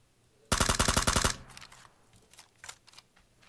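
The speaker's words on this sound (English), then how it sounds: "I shot that guy right in the back." A loud, tight burst of automatic gunfire from PUBG rips out about ten evenly spaced shots in under a second, followed by quieter scattered shots and clicks with no talking.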